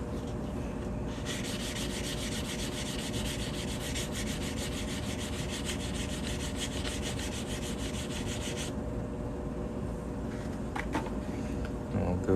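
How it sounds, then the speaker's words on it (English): A silver coin ring made from a quarter-ounce eagle and flag round is sanded down by hand, a steady close rubbing rasp that runs continuously, briefly changing texture near the end. "I'm going to go ahead and sand this down a little bit."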